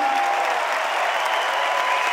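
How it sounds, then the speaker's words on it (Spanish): A large crowd at a live comedy show in an arena applauds, a dense steady roar of clapping, loud and unbroken from start to finish, with no talking. "Fuerte el aplauso para Lucho Miranda."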